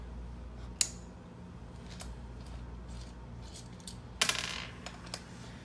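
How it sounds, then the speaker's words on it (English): A 4mm Allen wrench backs out screws from the rear of a camera case, giving a few sharp metallic clicks and taps spread irregularly, with a brief rattling burst midway, close and fairly faint. "we're going to remove the 4 screws on the back, again, with our 4mm Allen wrench"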